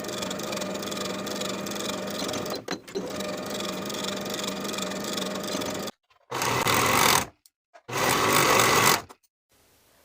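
A sewing machine sews bodice shoulder seams in a steady, close, loud whir, stopping briefly, then running in two more short bursts separated by silence.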